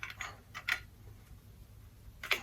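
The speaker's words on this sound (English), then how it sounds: "Let's install our grill top." Metal grill top set onto an indoor hobo heater, giving a few short metallic clinks and scrapes spread out in time, near and fairly quiet, with no talking.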